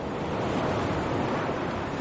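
Ocean surf off Jungutbatu Beach in Bali, heard as a dense, steady roar of breaking waves mixed with wind buffeting the microphone, loud and unbroken throughout.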